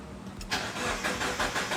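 A lowered, slammed VW car's engine cranks briefly, then catches and starts, settling into a steady, fairly close running rumble with slight surges.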